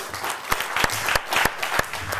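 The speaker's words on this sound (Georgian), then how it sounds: "აპლოდისმენტები" A studio audience claps on a game show, a short burst of close applause with a few sharper individual claps standing out.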